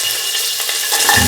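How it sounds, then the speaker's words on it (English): Ginger sizzles and fries in hot oil in a pan, a steady close crackling hiss with a stirring scrape near the end. "Let the oil get heated. Put in the ginger"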